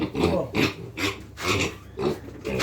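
Weaned piglets of a Ukrainian backyard breed grunt and squeal in a quick, regular rhythm of close, loud bursts while being handled for weighing.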